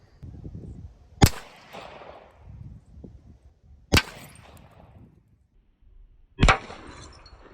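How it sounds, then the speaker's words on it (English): Three sharp, loud gunshots ring out outdoors at 50 yards, aimed at a bathtub, spaced a few seconds apart, each a crisp crack with a short decaying tail over faint background rumble. "we're gonna shoot at 50 yards to start"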